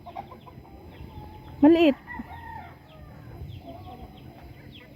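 A small, weakening chicken gives one short, close burst of clucking amid a quiet farmyard background, and a person speaks a single word.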